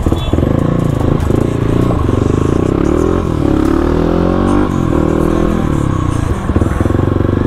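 A Yamaha WR155 motorcycle weaving through traffic gives a steady, loud engine drone with rising and falling revs, wind rush and road clatter throughout.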